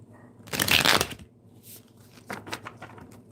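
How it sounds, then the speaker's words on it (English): A deck of tarot cards is riffled and shuffled by hand, one loud dense burst of flicking followed by softer scattered card slaps and taps, close and without talk. "take these cards here and let me shuffle."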